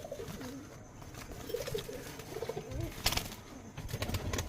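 Pakistani pigeon chicks in a home loft give soft, repeated coos and gurgles, close and fairly quiet, with a brief flutter near the middle and no talk over them.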